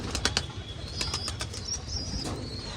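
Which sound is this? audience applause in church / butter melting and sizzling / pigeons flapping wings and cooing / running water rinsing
pigeons flapping wings and cooing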